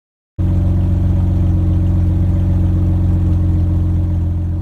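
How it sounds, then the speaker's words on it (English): A BMW E30 engine with a rusted, leaky exhaust starts up abruptly and runs loud and steady, a deep throbbing drone that holds unchanged for several seconds with no one talking. "making this a very loud, annoyingly loud exhaust system"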